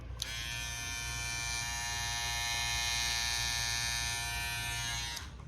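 A gold Wahl Detailer hair trimmer switches on and runs with a steady, bright electric buzz, close and even for about five seconds before cutting off.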